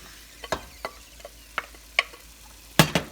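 Cooked maize and beans hitting a hot pot and being stirred, heard as a series of sharp, separate sizzling scrapes and clatters spaced about half a second apart, getting louder toward the end over a quiet background.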